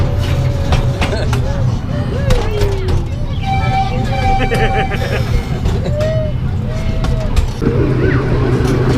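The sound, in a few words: riding a zoo train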